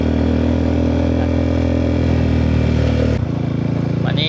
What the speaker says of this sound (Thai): เสียงท่อมันดัง